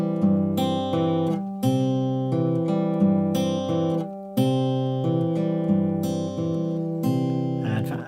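Acoustic guitar fingerpicked close up in a pattern that pinches two strings together, then alternates bass thumb notes with finger-picked upper strings, ringing chords changing every second or so, played alone without talking.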